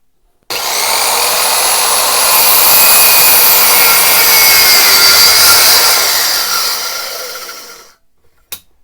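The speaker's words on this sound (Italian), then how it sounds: "Facciamo subito quindi la prima prova di taglio con l'immersione nella prima linea." A DEKO 85mm plunge circular saw starts and cuts a straight line through an MDF board with a loud, steady, high whine. The whine fades as the blade spins down, and a couple of light knocks follow.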